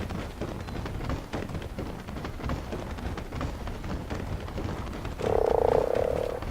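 Many frogs croak continuously in ARK Survival Evolved, a dense rapid chorus at steady volume with a louder burst of croaking near the end, and no talk over it.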